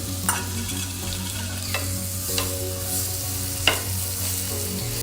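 Semolina and dry fruits roasting in a pan for sheera prasad, a spoon scraping and stirring with sharp clicks over a constant low sizzle, close and alone without speech.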